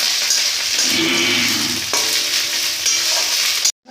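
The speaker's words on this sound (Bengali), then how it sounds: "এবার দেওয়া হচ্ছে আদা বাটা আদা দিলে বড্ড তেল শিক্ষায় গায়ে একটু কিরম ফিটে যাচ্ছে" Ginger paste hitting hot oil in a pan while cooking a potato, pointed gourd and prawn dish: a loud, continuous close sizzle and crackle with stirring, cutting off abruptly at the end.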